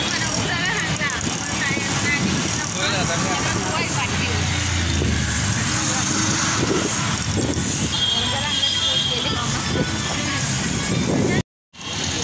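A train bound for Thane station rumbles along the rails with steady rolling clatter and occasional squeal, loud and close, while people talk nearby.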